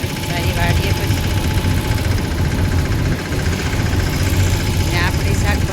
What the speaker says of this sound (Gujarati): ચાલુ ટ્રેક્ટર બહુ કાંઈ સારું આવે નહીં